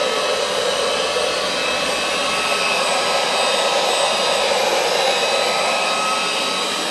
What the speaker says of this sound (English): use a heat gun just to warm that rubber up a little bit